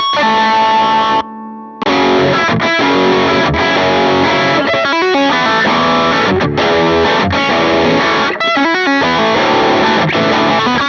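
Electric guitar chords played through an MXR Duke of Tone pedal in distortion mode, a warm overdrive, crunchy but not heavy, with a brief gap of quieter ringing near the start.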